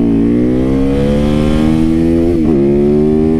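An older motorcycle's engine hums loud and close while riding, a steady harmonic drone that climbs slightly in pitch, dips briefly as the rider shifts, then rises again, with no talk.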